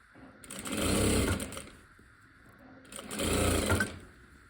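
A sewing machine runs in two bursts while a sleeve is stitched onto a suit. Each stretch of stitching is steady, loud and close, and there is a quieter pause between the bursts.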